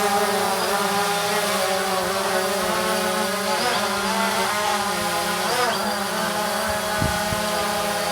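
DJI Phantom 2 quadcopter drone flying nearby on its maiden flight, a steady buzzing whine of rotors with pitch shifting slightly as it maneuvers, loud and continuous.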